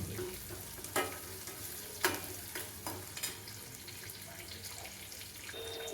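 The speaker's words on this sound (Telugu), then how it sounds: "ఆనియన్స్ ఒక టూ మినిట్స్ మంచిగా గోల్డెన్ ఫ్రై చేయాలి సార్" Chopped onions sizzle steadily in a hot pan until golden, with occasional stirring scrapes and clinks breaking through the constant frying hiss.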